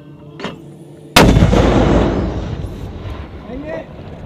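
A 120mm mortar round fires with a single loud, close blast that booms and rolls away over several seconds, preceded by faint handling noise, during a military exercise with an armor unit.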